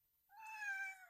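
A cat gives a single drawn-out meow, clear and fairly close, with silence before and after.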